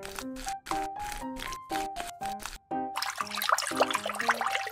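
Shrimp are rinsed in water in a miniature kitchen: a steady splashing, sloshing wash swells after a pause and runs on under light melodic music, close and fairly loud.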